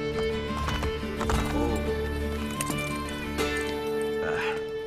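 Horses galloping in the video game Assassin's Creed Brotherhood, with rapid clip-clopping hooves and a neighing whinny, set over steady game music and ambient effects.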